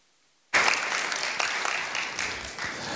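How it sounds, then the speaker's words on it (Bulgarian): A programming-talk audience breaks into applause for a lecturer on reading assembly language: silence, then a sudden burst of many hands clapping that holds steady with scattered louder claps, continuing to the end. "вашите аплодисменти за Боби Станимиров!"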